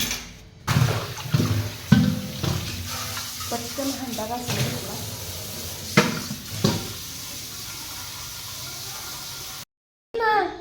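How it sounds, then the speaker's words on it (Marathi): Tap water runs as containers are filled at home, a continuous gushing hiss that shifts in pitch as the vessels fill, with voices talking over it and a brief cut to silence near the end. "बाहेर गेल्यानंतर समजलं की नळाला पाणी आले"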